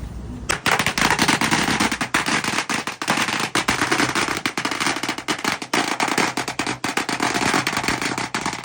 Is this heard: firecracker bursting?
yes